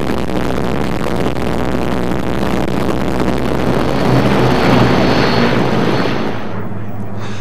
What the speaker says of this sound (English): Our camera gives you a good idea of what it was like to fly inside the Lancaster.